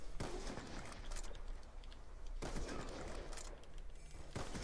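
Sustained fusillade of game gunfire in Black Ops 2, dense overlapping shots with sharp loud cracks at the start, midway and near the end, all over a constant noisy battlefield bed.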